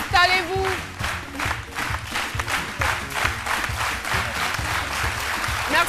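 A studio audience at a midday Ivorian television show claps steadily and enthusiastically, a dense sustained wash of applause with a brief voice cutting through near the start.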